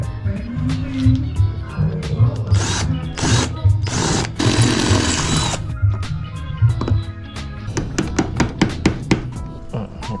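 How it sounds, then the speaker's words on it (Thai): A power drill drilling out a suitcase wheel runs in several short, loud bursts amid clicking and rattling mechanical noises, close to the microphone. "เราจะต้องใช้ สว่านนี่แหละเจาะ"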